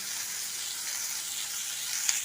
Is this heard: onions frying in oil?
yes